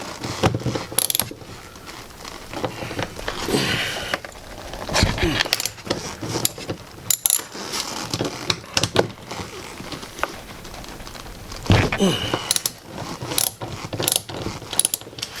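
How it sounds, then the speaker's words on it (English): Ratchet with a 10mm socket working on the side mirror bolts of a 2007 Scion tC, giving bursts of rapid clicking and mechanical rattling, close and fairly loud, broken by short pauses. "We're gonna take a 10mm socket with a ratchet, and we're gonna go for these right here."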